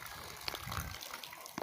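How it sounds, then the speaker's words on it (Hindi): Heavy rain and running water pour steadily close by, a continuous dense hiss and gush with scattered splashes throughout. "बारिश अभी तक भी शुरू है जी"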